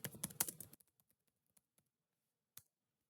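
Typing a name on a computer keyboard: a quick burst of soft keystrokes, then a few sparse, isolated clicks spaced out over the next couple of seconds, ending with a single louder tap, all faint and close.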